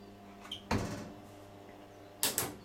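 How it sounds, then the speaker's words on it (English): Electronic door lock on a Creda Supaspeed 1150 washer dryer engaging indoors: a soft click, then a sharper mechanical clack, and a double clunk near the end, all close and fairly quiet against a steady low hum. "The electronic door lock."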